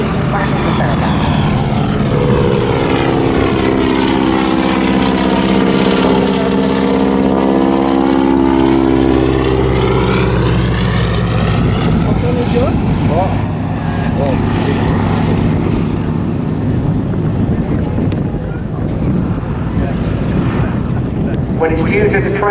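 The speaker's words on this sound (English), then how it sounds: "Both of these aircraft are powered by a radial engine." Radial-engine propeller airplanes pass overhead at the Southport Airshow with a loud droning roar that rises and falls in pitch as they fly by, while a commentator talks over the PA.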